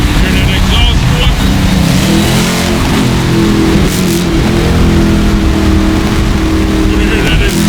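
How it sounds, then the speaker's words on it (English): A loud, throaty modified exhaust on a Dodge Hellcat Jailbreak revving and rumbling up close, sustained throughout with a couple of throttle swells. "Hear that exhaust, boy?"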